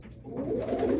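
Pigeons coo softly inside a racing pigeon loft in a short, low, murmuring burst heard nearby.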